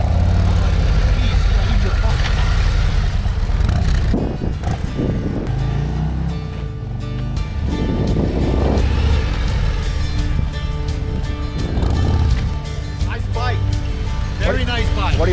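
Loud, close engine of a 2024 Harley-Davidson Road Glide touring motorcycle, a deep steady rumble that surges and dips throughout, with people talking over it.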